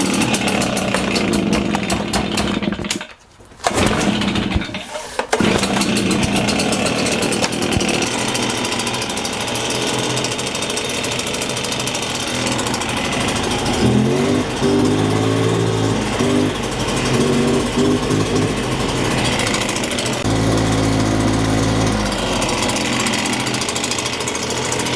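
STIHL BR350 backpack leaf blower engine running loud and close for the whole stretch, dipping briefly near the start, then throttled up so the note wavers and bogs instead of revving cleanly.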